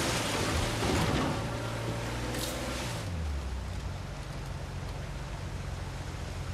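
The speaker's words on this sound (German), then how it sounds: "Aber da oben ist ja nur noch wildes Wasser." Wild rushing water in the video game Uncharted 4 makes a steady, dense roar that fills the whole stretch, with a low droning hum underneath for the first few seconds.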